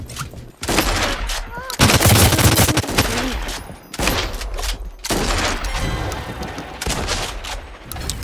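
A golden slug rifle fires in Realm Royale squad play: loud, heavy shots come in clustered bursts with short gaps of quiet between volleys, mixed with other gunfire and occasional brief speech.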